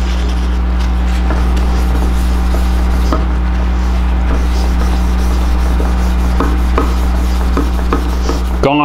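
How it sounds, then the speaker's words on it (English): Polish is rubbed by hand onto a Honda CBX motorcycle part during restoration, a steady close scrubbing and rasping with faint strokes over a constant low hum. "And I'll rub it with this polish until the polish is virtually gone."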